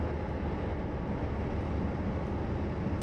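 A BR Class 47 diesel passenger train in Train Simulator 2016, passing under a bridge: a dense, steady, rumbling drone that stays loud and unbroken throughout.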